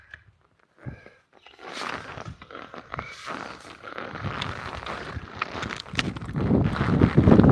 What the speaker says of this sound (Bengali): হাওয়াতে আমাকে উড়িয়ে নিয়ে যাবে এত হাওয়া এখানে